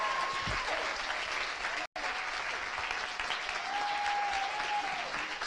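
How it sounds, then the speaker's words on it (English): Audience applause during a She Should Run national conversation event, a dense steady patter of many clapping hands that continues throughout, broken by one brief cut, with a faint voice or tone rising above it. "Round of applause for their fantastic program."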